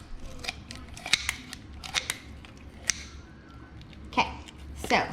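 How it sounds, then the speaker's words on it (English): Sharp kitchen shears snipping along a turkey's spine during spatchcocking, a series of crisp, close clicks and crunchy cuts at an irregular pace over a low background hum. "So we're gonna take sharp kitchen shears"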